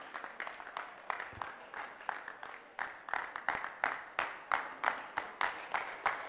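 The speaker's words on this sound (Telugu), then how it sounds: "మనం చప్పట్లు కొడతాయని వాళ్ళని స్టేజ్ మీదకి ఆహ్వానిద్దామండి" Audience applause welcoming guests onto a stage at a formal event, a rhythmic, steady clapping that swells into sharper, regular beats toward the end, moderately close and without talk over it.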